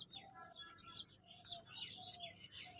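A pigeon of the lesser breed coos near the listener, soft and repeated, while other small birds chirp and tweet around it through the short stretch.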